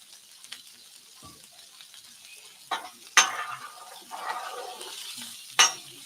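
Food sears hard on a hot hibachi griddle, a quiet sizzle broken by several sharp metallic clanks and scrapes of a spatula against the steel, with no one speaking.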